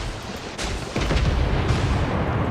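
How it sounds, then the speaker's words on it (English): A battleship Wyoming's artillery salvo in the naval game World of Warships: a heavy booming blast that rolls into a sustained low rumble, loud and alone without voices. "Wyoming knew he was there, though, so here comes his salvo"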